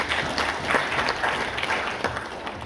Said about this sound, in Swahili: Makofi kwa kampuni ya Jeruti.